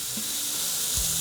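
Sausage sizzling in a pan during an indoor clam bake, a steady broad frying hiss with a short low thump near the end, no talking.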